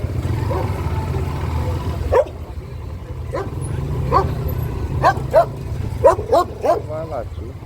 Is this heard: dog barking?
yes